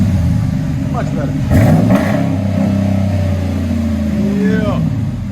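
A 2018 RAM 1500 with a 5.7L HEMI V8 and Flowmaster 40 Series exhaust revs up close, a deep burbling rumble that swells in sharp throttle blips, with voices talking over it.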